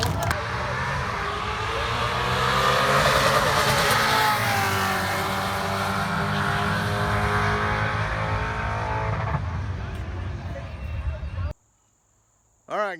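Ford Mustang drag race cars roar past door-to-door with sustained engine noise and crowd murmur at an NMRA event in Bowling Green, the loud run cutting off abruptly near the end.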